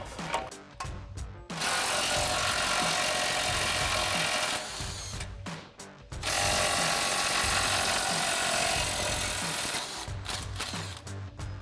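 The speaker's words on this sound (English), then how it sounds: "So we've got a 24mm socket on our ratchet and a 24mm socket on our impact." An impact wrench with a 24mm socket hammers loose the bumper bracket bolts on a 2010-2018 RAM 2500, two long loud rattling bursts with brief pauses and short taps between them, close by and with no talk.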